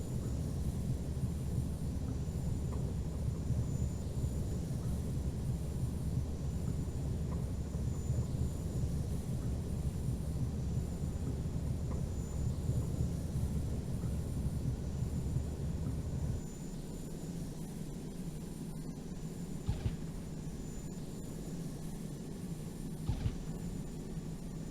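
An F-117 Nighthawk powers up for takeoff on the runway in the flight simulator Falcon 4 Allied Force. A steady, loud jet roar hums throughout, and the low rumble drops partway through while the engine whine carries on.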